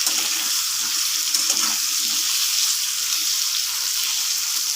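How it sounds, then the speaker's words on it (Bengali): A steady, bright hiss of potatoes sizzling in hot oil, continuous and fairly loud with no voices. "আলুগুলো লাল লাল করে ভাজা পর্যন্ত আমি একটু অপেক্ষা করবো"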